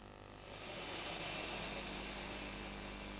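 The royal plane at Budapest airport gives a faint aircraft engine drone, a steady hum that swells slightly after the first half second and holds, with no talk over it.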